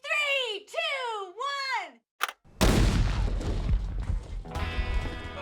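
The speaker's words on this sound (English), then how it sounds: "this is explosion setting off SKS rifles" A large explosion set off next to SKS rifles, a sudden loud blast followed by a long rumbling roar and crackling debris, coming right after drawn-out shouting voices.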